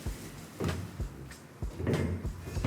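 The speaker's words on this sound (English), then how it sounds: "these are custom metal doors." Custom metal cabinet doors with magnetic catches in a beachfront condo are swung shut several times, giving a series of solid thumps and clacks at irregular intervals, close and moderately loud.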